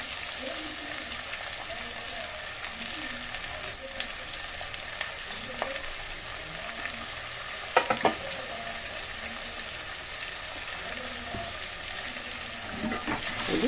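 Ingredients for a pot biryani with tomato gravy, including beans, sizzling and frying in a pot; a steady, close hiss with occasional stirring scrapes and clicks throughout.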